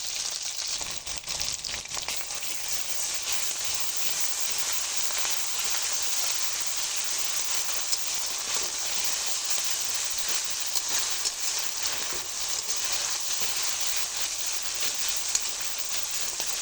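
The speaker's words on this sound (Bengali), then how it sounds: "মশলাটা আমি খুব ভালো করে ভেজে নিয়েছি" Cumin, ginger, garlic and dried red chilli pastes fry in hot oil, a continuous soft crackling sizzle like light rain that holds steady throughout, with no talking over it.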